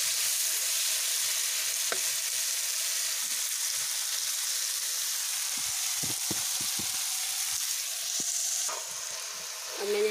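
Bottle gourd curry sizzles steadily in oil in a pan on a village wood-fired stove, with a constant frying hiss, occasional scraping stirs and a soft clink near the end.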